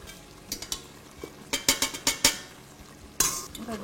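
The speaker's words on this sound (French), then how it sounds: "On va bien mélanger tout ça." Meat being stirred back into a prune tajine sauce, with several close, sharp clinks and scrapes of a utensil against the pot in short bursts over a soft background.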